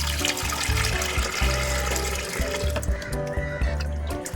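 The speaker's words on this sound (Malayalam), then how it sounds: "അതിനു വേണ്ടിയിട്ട് നമുക്കൊരു 4 ഇഞ്ച് വരെ ഇതിലേക്ക് വെള്ളം നിറയ്ക്കാം." Water poured into a shallow betta fish breeding container, filled to about four inches, a close, continuous splashing and gurgling stream that runs throughout and eases slightly toward the end.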